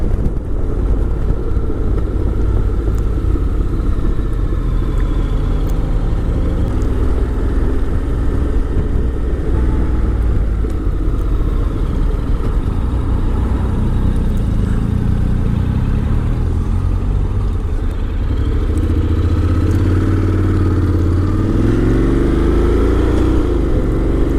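A 2022 Honda X-ADV accelerating at full power in sport mode, its engine droning loudly and steadily under heavy wind rush, with the pitch rising as it gains speed toward the end; no talk.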